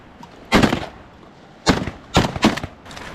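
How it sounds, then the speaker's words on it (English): Shotgun blasts ring out while duck hunting for diver ducks on an icy shore: one loud shot, then a pause, then two more in quick succession, each with a short outdoor tail. "Shoot that, Drake."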